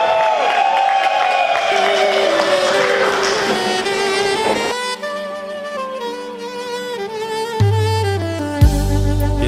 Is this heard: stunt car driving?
no